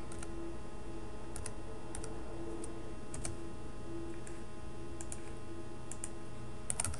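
Soft, sparse key taps on a computer keyboard over a steady background hum, with a handful of light clicks spread out across the stretch and no talking.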